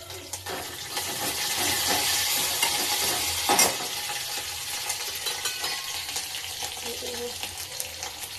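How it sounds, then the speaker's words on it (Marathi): Cumin and mustard seeds crackle and sizzle in hot oil with garlic for a dal tempering, a loud, steady frying hiss close up, with faint voices in the background. "जिरे मोहरी टाकले, तडतडून देते."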